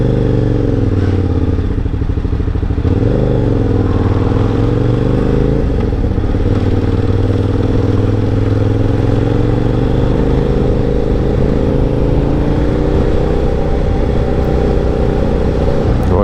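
A KTM Super Duke 990 motorcycle with standard exhaust cans roars loudly and steadily while riding, its engine note rising and falling as it pulls through the revs, with no talk over it.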